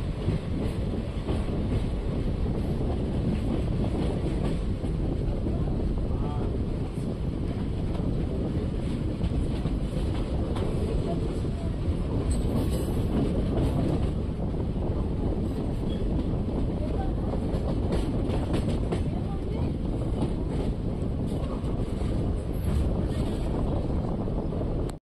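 An Indian Railways train running from Wadi toward Solapur, heard from on board as a constant heavy rumble with wind buffeting across the whole stretch, with faint voices occasionally underneath.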